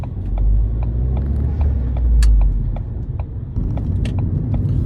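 A Ford ST's engine idles with a low, rumbling note, while regular sharp clicks and ticks sit above it and the volume swells briefly.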